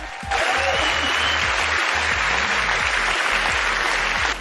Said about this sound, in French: Applaudissez-la très fort pour cette réponse.